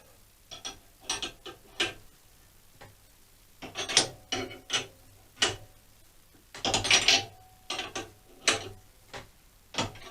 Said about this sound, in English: Here we have the completed assembly, the shock absorber compressor, all fitted together quite nicely, and now let's see if it actually works.